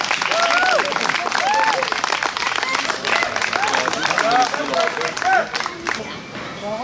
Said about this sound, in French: Je les applaudis tous.